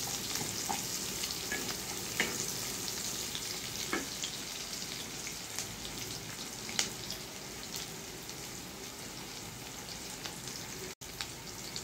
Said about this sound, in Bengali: পেস্টটা একটু লাল লাল করে ভেজে নিতে হবে।